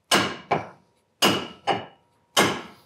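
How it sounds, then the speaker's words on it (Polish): A new hammer with a freshly fitted handle strikes hard in a new garage, five sharp, ringing blows in uneven pairs, loud and close, each dying away quickly, with no talking. "Krzysiek, masz nowy młotek? Już go czas wypróbować"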